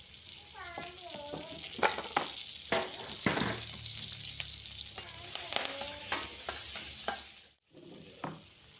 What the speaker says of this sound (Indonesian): lanjut tumis bawang putih, bawang merah, daun jeruk